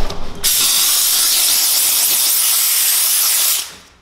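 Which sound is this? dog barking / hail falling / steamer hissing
steamer hissing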